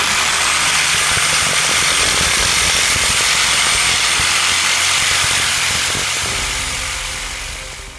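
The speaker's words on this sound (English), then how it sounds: "I'm actually going to cut down through the frame" A power tool cuts down through a steel casement window frame, a loud, steady rough grinding roar that holds for most of the time and fades slightly toward the end.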